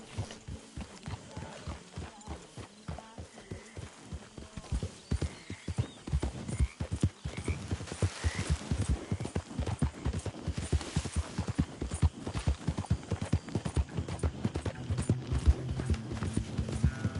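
A horse in the video game Red Dead Redemption 2 moves at a gallop. Its hooves clop in a fast, steady rhythm throughout, with a brief whinny-like sound and only faint voice.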